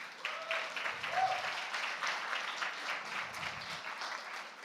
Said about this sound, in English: give a round of applause to your mentors and everyone that got you here today